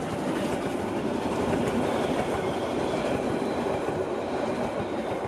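The Brockenbahn mountain railway train on the Brocken rumbles along the tracks with a continuous rolling roar and faint clattering of wheels, loud and close throughout.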